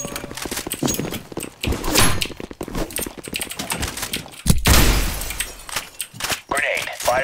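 AK-47 gunfire in the Counter Blox video game, rapid sharp bursts of shots repeating throughout, loud and close with a heavy blast partway through and voices over it.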